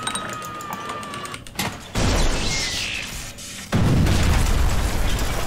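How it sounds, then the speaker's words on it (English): A loud booming explosion bursts in, followed shortly by a second blast, both dense and roaring with crackling debris. "You shouldn't be so close to the explosion."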